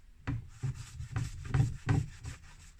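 A cloth soaked in white vinegar is rubbed over roofing lead in about six short, close scrubbing strokes, each a brief rasping swipe separated by quiet gaps.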